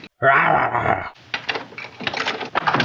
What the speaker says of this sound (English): Seems like, he's brought his dog with him again.